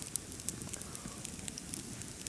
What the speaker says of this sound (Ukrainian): Я прийшов на капище запалити вогонь,